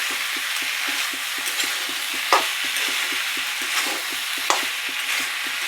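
A steady scraping and stirring in a frying pan of soybean, potato and onion-leaf poppy seed curry, with even, rhythmic strokes over a constant sizzle and a couple of sharper knocks.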